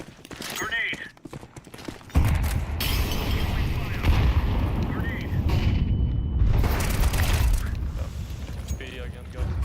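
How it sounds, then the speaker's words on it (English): A grenade blast in Counter-Strike 2 lands as a sudden loud boom followed by a long rumbling roar, with gunfire and clatter mixed in and players talking over the game sounds. "Grenade."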